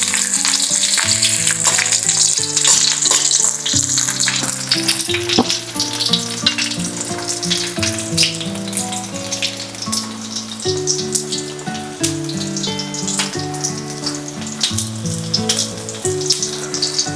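Garlic fries slowly in oil in a metal pan with a continuous bright sizzle and crackle, running beneath loud background music for the whole stretch.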